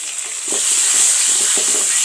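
Onions hitting a pan with cabbage start a loud, steady sizzle and hiss, with light stirring knocks underneath.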